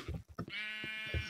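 Sheep bleating in Minecraft, a single wavering, nasal game bleat following a few soft thuds, loud and close with no talk over it.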